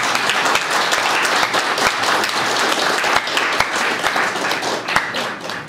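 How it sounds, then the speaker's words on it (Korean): Sustained applause from a ceremony audience, dense and even clapping throughout with a few sharper individual claps standing out, close and loud. "박수로 축하해 주시기 바랍니다."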